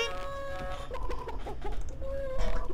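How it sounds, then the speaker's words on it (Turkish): A chicken clucks in Counter-Strike: Global Offensive, a short run of close, choppy clucks over game background noise. "Tavuk ya."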